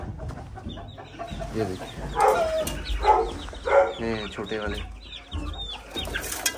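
Chicks of the Shamo breed cheep among clucking chickens in a Pakistani poultry pen. The calls are close and intermittent, and someone speaks briefly over them.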